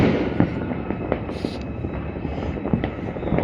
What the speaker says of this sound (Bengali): প্রচুর বাজি ফাটছে, দেখতে পাচ্ছ